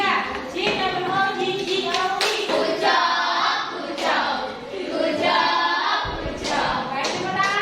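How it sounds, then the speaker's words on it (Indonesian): Schoolchildren in a classroom clap for group 3, with rhythmic hand claps mixed with loud, chant-like children's voices throughout. "Baik, tepuk tangan untuk kelompok 3."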